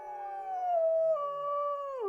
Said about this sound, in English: A place that had not heard a wolf howl to speak of for 60-some years